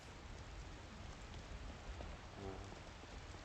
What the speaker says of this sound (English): hopefully this rain stops and we can dry off